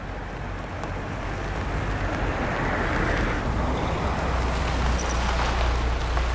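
Road vehicle slowing and coming to a stop at the roadside, a steady low engine and traffic rumble with a faint hiss near the end, no talking.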